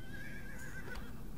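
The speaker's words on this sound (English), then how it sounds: "So we're calling the horse, right?" A horse in the video game The Last Frontier gives a short, bright whinny with a faint clip-clop underneath, heard alone over a steady low background hum.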